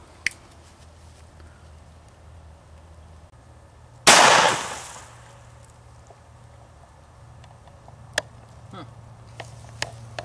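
A single sharp gunshot from an H&K USP pistol firing an Extreme Shock .45 ACP Air Freedom round through drywall rings out after a quiet stretch, decaying quickly, with a few faint ticks and knocks afterward.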